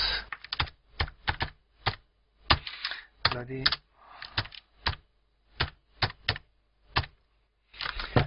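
Letters typed on a computer keyboard in short bursts of close, crisp key clicks separated by brief pauses, with soft clatter and a faint muffled voice briefly in the background.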